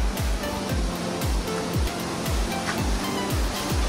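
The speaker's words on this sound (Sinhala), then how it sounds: "එතනින් හැරුණ ගමන් විතර වතුර සද්දයක් එනවා." Steady rushing stream water along a hiking trail near Ella Rock, Sri Lanka, a constant close wash of noise overlaid by regular thudding footsteps roughly twice a second.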